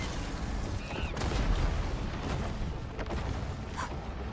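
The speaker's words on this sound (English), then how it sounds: "So obviously it looks like the turrets are being struck here." Turrets being struck by gunfire in Arknights Endfield, a dense low rumble of rapid impacts and booms with a few sharper hits standing out, steady and fairly quiet throughout with no talk.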